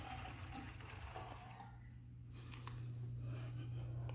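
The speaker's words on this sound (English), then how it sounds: "Okay, so it's draining now." Water drains steadily from a repaired sink in a house after a clog fix, a continuous rushing and gurgling flow heard close up, alone and with no talk.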